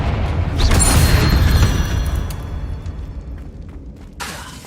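A Confringo fire spell bursts in Hogwarts Legacy with a single loud, close boom and crackle that fades gradually over a few seconds.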